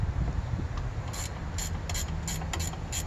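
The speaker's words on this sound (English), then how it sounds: "what I do when I take my saws out of the mill is I back these off 12 quarter turns" Chainsaw mill clamp bolts being backed off in quarter turns with a wrench, giving a run of sharp, close ratchet clicks in uneven bursts over a low background rumble.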